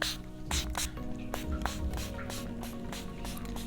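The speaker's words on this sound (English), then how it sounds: "I'm going to spray my hair with water" Several short hissing bursts of a spray bottle misting water onto hair, spaced irregularly over a low background hum, fairly close.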